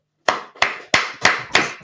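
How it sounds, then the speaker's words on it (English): Five sharp hand claps in an even rhythm, close and distinct, with silence between each. "clap it up."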